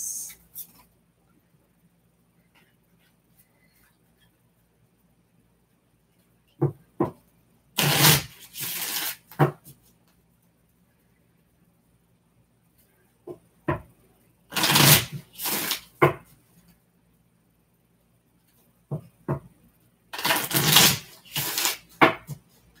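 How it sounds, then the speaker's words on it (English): Oracle card decks are shuffled in three separate bursts of crisp riffling and tapping, separated by long quiet pauses. "Just give me a little time to reset and shuffle the decks."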